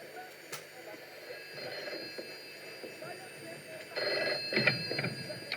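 A telephone rings as a radio drama sound effect, electronic bursts near the end after a quieter stretch, with faint voices underneath.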